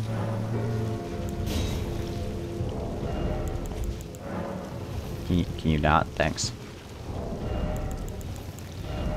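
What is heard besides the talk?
rain in the video game Elden Ring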